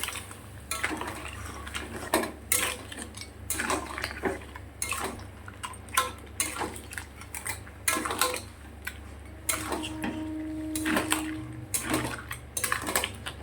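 Crabs stirred in a pan with a utensil: repeated clattering scrapes and clinks of metal on the pan, in irregular bursts over a steady low hum, with no talking.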